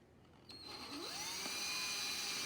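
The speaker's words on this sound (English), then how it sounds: "Chuck it into your drill" A power drill spinning a cleaning tool for aviation headset jacks spins up and settles into a steady, high-pitched whine, close by and continuous.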